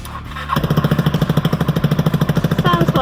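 Custom Judge Dredd replica motorcycle engine starts and runs through a smaller retuned exhaust pipe, a loud, fast, evenly pulsing putter like a small three-wheeler, steady and close throughout.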